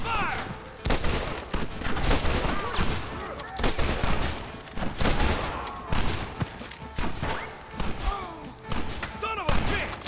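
Western gunfight in Red Dead Redemption, with rapid volleys of rifle and pistol shots cracking in bursts over ten seconds, close and loud, while characters shout between the salvos.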